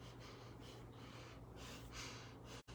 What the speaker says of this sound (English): when I get stressed, I start breathing quickly and shallowly